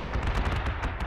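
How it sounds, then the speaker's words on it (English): Anti-aircraft guns firing in Panzer Corps 2, three AA guns engaging an aircraft: a quick string of sharp, closely spaced bursts, loud and near, lasting about a second. "There's gonna be three AAs shooting at that thing."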